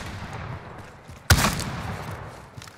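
A single sharp gunshot bursts out loud and close in Call of Duty: Modern Warfare, then trails into a decaying rumble over low, steady game ambience.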